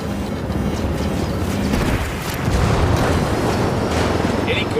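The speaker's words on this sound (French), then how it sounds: "L'hélico est détruit." A helicopter destroyed in Ghost Recon Wildlands, set in Bolivia, erupting into a loud, sustained rumbling blast that rolls on with deep churning noise and swells slightly midway.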